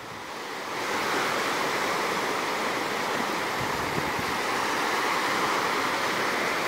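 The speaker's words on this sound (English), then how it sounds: "I hope you're not hearing too much wind noise and can actually hear the ocean here." Ocean surf washing onto a beach at night, a continuous broad roar of breaking waves close by, mixed with gusty wind buffeting the microphone.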